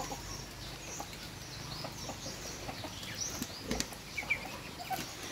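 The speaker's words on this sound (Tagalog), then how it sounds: "susunod pa sa akin yung mga manok" Chickens cluck close by as they trail after a person outdoors, with soft, scattered calls and a few brief wing flaps over a low ambient background.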